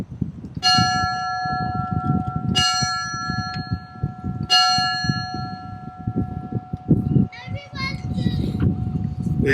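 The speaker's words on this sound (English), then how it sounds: "With the ringing of the fire bell, this concludes our 2024 Washington State Fallen Firefighters Memorial Service." A fire bell rings at the 2024 Washington State Fallen Firefighters Memorial Service, struck three times about two seconds apart. Each clear metallic tone rings on over a murmuring crowd and children's chatter.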